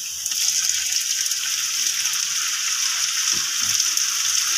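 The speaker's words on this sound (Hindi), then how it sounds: "टमाटरों को अब अच्छी तरह से भून लें।" Tomatoes frying in a pan for dhaba-style anda ghotala: a steady, bright sizzle and crackle that holds at an even level, close up, with faint stirring clatter near the end.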